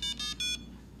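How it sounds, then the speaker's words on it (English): A Lab Pro data logger gives three short electronic beeps in quick succession as power is plugged in, clear and close against a quiet room hum. "when you plug in the power, you'll hear it beep"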